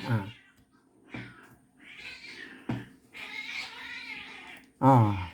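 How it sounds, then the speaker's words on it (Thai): Cats yowl and caterwaul in several drawn-out, wavering cries with short gaps between them, fairly close and loud, ending in a strong harsh yowl. "แมวมันคบกันเลยเดี๋ยวโทษทีด้วย"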